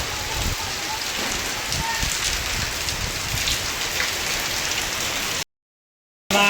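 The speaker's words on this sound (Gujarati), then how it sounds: "વરસાદ જોરદાર આવ્યો" Steady, heavy rainfall drums and hisses continuously, then cuts to silence near the end before returning briefly.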